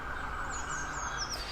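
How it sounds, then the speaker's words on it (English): A distant emergency vehicle siren wails faintly over low, steady traffic rumble, its rising and falling tone drifting past briefly. "Wait for that siren to go past."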